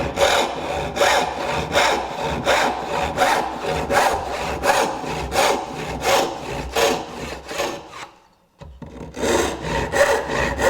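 A hand saw rips through wood in a woodworker's shop, each stroke a loud, steady rasp in a regular rhythm, with a brief pause near the end before sawing resumes.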